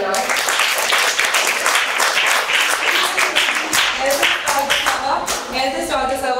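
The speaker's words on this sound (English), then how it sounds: "Everybody clap for them, right?" A parish gathering breaks into loud, dense applause that carries on throughout, while voices talk and call out over the clapping.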